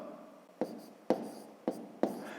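Pen or chalk strokes writing out the digits of a column subtraction, four sharp separate taps and scratches spaced about half a second apart, close and clear with no talking.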